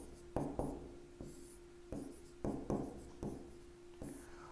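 Chalk writes on a board during a statistics lesson, producing several separate taps and scratchy strokes in an irregular rhythm. The strokes are close and fairly quiet over a faint steady hum, with no talk.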